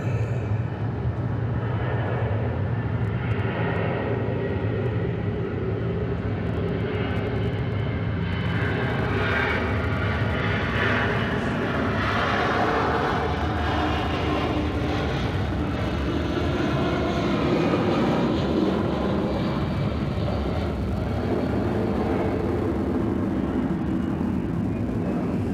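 A Delta airliner passing at Atlanta Hartsfield-Jackson airport gives a loud, sustained broadband engine roar that swells and holds for the full stretch, with no talk.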